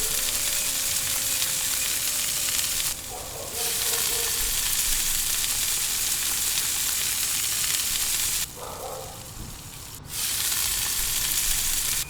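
Fish fries on a tava in coconut oil with curry leaves, a loud, continuous sizzle that dips briefly twice, as if the pan is covered or moved, then resumes.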